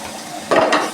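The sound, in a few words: onions frying in a pan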